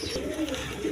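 A close, low pigeon coo rolls out from a breeding pair of red Lal Gorra pigeons, a soft throaty murmur that carries on for the whole moment.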